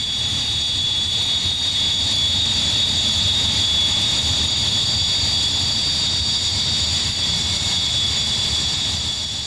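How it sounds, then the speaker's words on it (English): A Navy Hawker Hunter T-8 jet trainer taxis in after a training flight, its turbine giving a loud, steady whine with a sharp high-pitched tone over a constant rumble, unbroken throughout. "This T-8 taxis in after a training flight."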